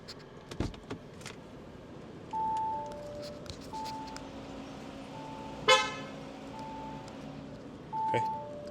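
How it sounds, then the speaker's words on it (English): Horn of a BMW X3 M40i or Audi SQ5 luxury SUV, a few short steady honks of moderate loudness spaced apart, heard amid quiet outdoor ambience with a sharp knock in between. "horn sound is very similar."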